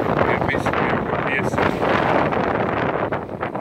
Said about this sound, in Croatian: puše danas, dosta puše, pa su valovi zapljuskivali ove jedne strane čamca